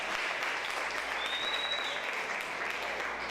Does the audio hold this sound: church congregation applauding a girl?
yes